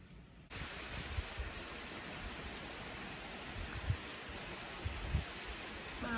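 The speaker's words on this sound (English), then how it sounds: "Now it's raining like mad and there's thunder and lightning." Heavy downpour during a thunderstorm, a steady dense hiss of rain starting abruptly and holding at an even level, with occasional louder drops or splashes standing out, no voices.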